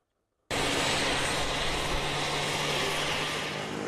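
An upgraded Antonov An-2 biplane with a new engine, starting after a moment of silence with a sudden, steady, loud piston-engine drone and a faint tonal hum, sustained evenly with no speech.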